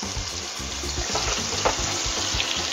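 Scallops fry in a hot pan with fresh thyme added on top, giving a steady, fairly quiet sizzle and crackle with no voices over it.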